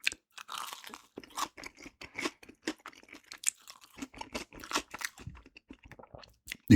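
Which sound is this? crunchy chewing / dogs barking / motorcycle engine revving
crunchy chewing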